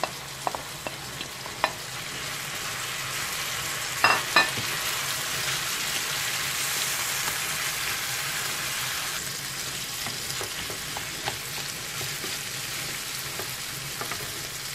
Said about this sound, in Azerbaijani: İndi isə lobyanı əlavə edirəm